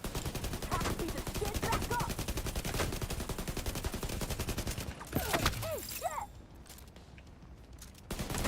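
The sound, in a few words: gunfire in a video game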